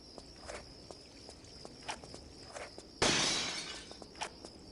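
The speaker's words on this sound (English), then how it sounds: "it wouldn't be in my playthrough if I don't shoot every piece of glass I see" Glass shatters in a sudden bright crash after gunfire in Tomb Raider Chronicles, set among soft, regular footsteps and faint taps in a quiet city street.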